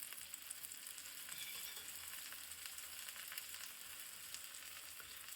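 Steady, soft sizzle of a millet flour pudla frying in oil in a pan, a continuous faint crackle with no voices.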